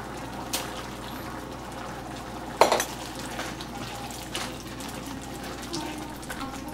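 A spoon stirs scrambled egg into tarka dal in a metal pot, with soft scraping and wet stirring under a low steady hum, marked by one sharp clang of utensil on pot and a few fainter knocks.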